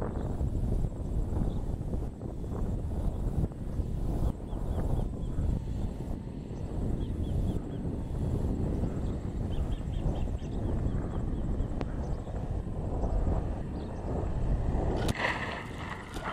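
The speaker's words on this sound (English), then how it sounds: "Ah, the wind's picking up." Outdoor wind gusting across the microphone, a continuous low rumbling roar with buffeting at an unprepared model-plane runway, loud and unbroken throughout.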